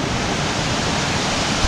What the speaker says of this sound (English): this is Bridal Veil Falls